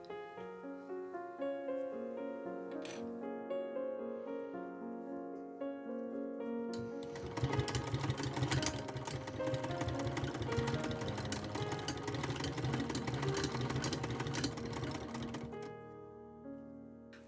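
Sewing machine stitching a vintage hat brim to its crown runs in a fast, continuous mechanical chatter for about eight seconds, preceded by soft music and fading out near the end; no one speaks.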